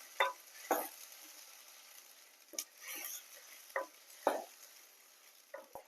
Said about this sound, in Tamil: நல்லா பச்சை வாசம் போற வரைக்கும் நல்லா வணக்கி எடுத்துக்கலாம்